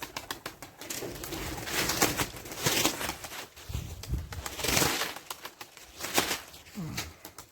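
Tumbler pigeons coo repeatedly nearby over a busy, rustling outdoor background, with soft throaty calls rising and falling throughout.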